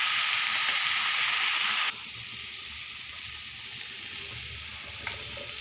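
Food fries in a pan with a loud bright sizzle that suddenly drops to a quieter hiss, followed by low steady crackling and a single small knock.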